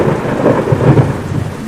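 Heavy rain falls with rumbling thunder in an animated Hindi children's story about birds and a tree house. The storm is loud and continuous, and no one speaks.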